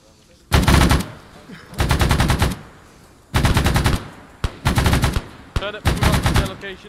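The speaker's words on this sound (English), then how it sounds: "MG, suppressive fire." A machine gun in the Vietnam War game Arma 3 Unsung lays down suppressive fire in several loud, rapid bursts separated by short pauses, with a voice briefly heard between them.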